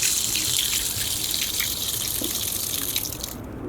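Tap water running steadily into a sink while gloves are rinsed under it, a close, continuous splashing hiss that cuts off near the end.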